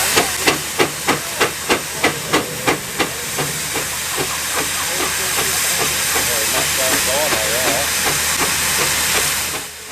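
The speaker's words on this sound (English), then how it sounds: "Now watch what happens to the torque when the engine's changed from a compound to a simple two-cylinder." A Hercules steam engine runs on a dynamometer, switching from compound to simple two-cylinder working: a close row of loud, regular exhaust chuffs gives way to a continuous steam roar and hiss, with some voices faintly underneath.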